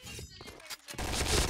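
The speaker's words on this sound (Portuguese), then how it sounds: "Acho que eu levei tiro de alguém invisível, mano." Dense, rapid gunfire rattles in a video game shooter as overlapping bursts of shots, loud and close, with a short lull before the firing picks up again.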